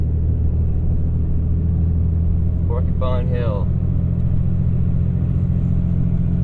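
A truck engine drones with a steady, heavy rumble as it pulls uphill under load in low gear through snowy deep woods; someone briefly speaks midway.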